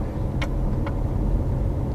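A car drives along a dusty country road on the way from Mad River to Cooper's, giving off a steady, loud low rumble inside the cabin with a couple of faint ticks.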